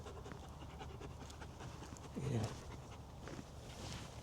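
A dog pants softly close by in quick rhythmic breaths, faint against a quiet outdoor background, with a brief murmured word from a person.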